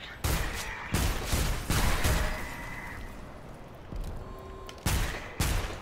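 Heavy gunfire from a powerful gun in the video game Selaco, several loud separate shots in an uneven rhythm, each a sharp close blast with a short decaying tail.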